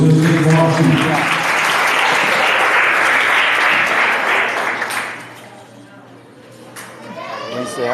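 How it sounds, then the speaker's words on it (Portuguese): A church congregation at a family worship service claps loudly and warmly for several seconds, then the applause fades into a quieter room with voices and children's chatter returning at the end. "uma salva de palmas ao nosso Deus bem forte"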